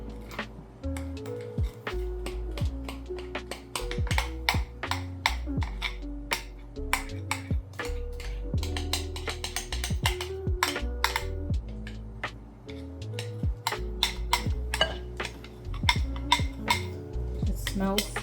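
Italian rainbow cookie batter being mixed in a bowl, with a steady stream of close, clinking spoon-on-bowl taps and scraping strokes throughout.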